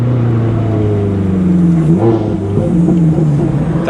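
A 2007 Ferrari F430 Spider engine drones loud and close under steady throttle with a rise in revs partway through. Small crackles from the exhaust sit over a dense, constant roar.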